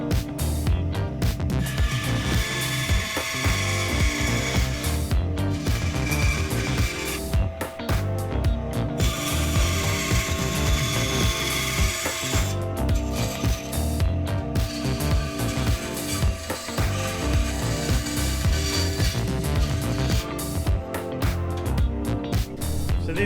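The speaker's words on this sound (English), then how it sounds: "Now we need to cut out some grooves to be able to slide them in." A bandsaw cuts grooves into wooden pieces for a wine display, giving a continuous close mechanical whine and hum with brief dips as the cut progresses.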